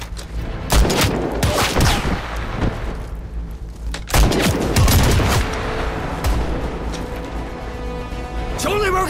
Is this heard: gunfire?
yes